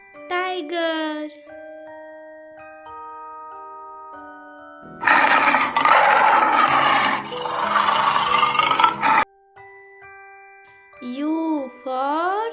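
Over a children's alphabet song, a loud tiger roar lasts about four seconds, set between sung and spoken lines with a tinkling backing tune.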